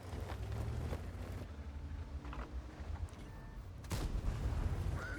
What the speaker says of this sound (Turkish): Bir patlayıcı daha vuruyor.